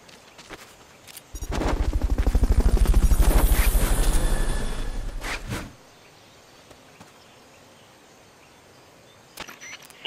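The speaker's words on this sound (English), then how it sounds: "Fulton recovery subject confirmed onboard helicopter." A helicopter in Metal Gear Solid Peace Walker roars in with a rapid rotor chop, swells loud for a few seconds and then cuts off, leaving a quiet background with a few faint clicks.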